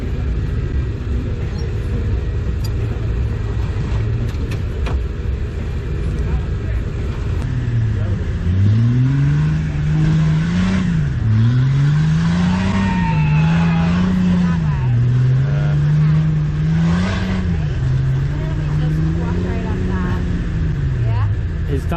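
An off-road buggy engine revs hard in rising and falling surges as its tires spin, loud and close, with people talking over it.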